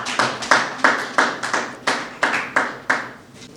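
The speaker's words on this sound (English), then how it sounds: "Please give him a round of applause." Sparse, separate handclaps from a gala night audience, about a dozen distinct claps in an uneven rhythm, close and fairly quiet, with no talking.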